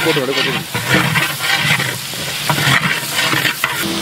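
A large bunch of coriander is stirred into a huge 25 kg pot of vegetable biryani with bullet rice, giving a steady scraping, sizzling churn that runs close and loud throughout, with a voice speaking over it.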